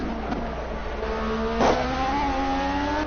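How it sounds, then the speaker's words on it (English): Racing car engine in Project CARS bouncing off the rev limiter, a loud sustained high-pitched whine with steady harmonic tones that stutter and rise slightly, continuous and close, no talking. "Hitting the rev limiter"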